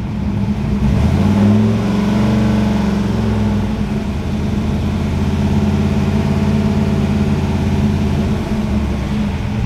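Fox Body Mustang V8 with Terminator X fuel injection held at a steady rev of about 2,500 RPM, a loud continuous engine drone with a brief rise near the start, no talking.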